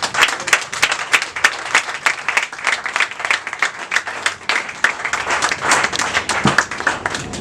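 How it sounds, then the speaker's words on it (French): A church congregation claps during a service, a lively, fairly close stretch of crisp, overlapping handclaps with a loosely rhythmic pulse. "applaudissons pour le Seigneur"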